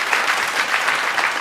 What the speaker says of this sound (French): Maximum d'applaudissements pour vous.